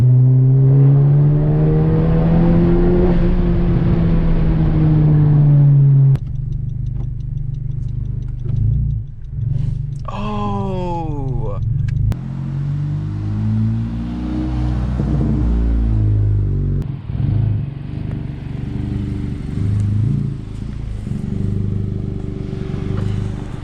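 A Honda Civic engine, freshly fitted with new spark plugs, revs loudly and up close, its pitch climbing and falling as it cuts out at high revs past 4,000 rpm, with no voices over it.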